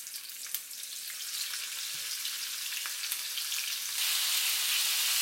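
Shrimp frying in 3 tablespoons of hot oil, a dense continuous sizzle up close with faint stirring clicks, growing louder and brighter toward the end.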